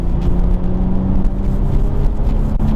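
A low-mileage B5 Audi RS4 Clubsport with a Cosworth engine runs with a loud, steady, deep drone of engine harmonics close by, holding an even pitch rather than sharply climbing.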